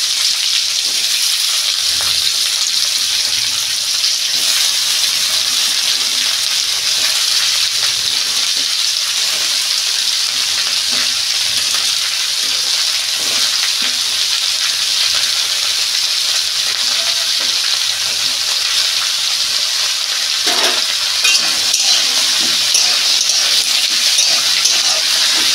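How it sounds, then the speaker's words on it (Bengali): Snake gourd pieces frying in hot oil in a home kitchen, a loud continuous sizzle with crackling spatter and occasional stirring scrapes, no talk. "তেল গরম হয়ে গেছে, দিয়ে দিচ্ছি হোঁপাটা।"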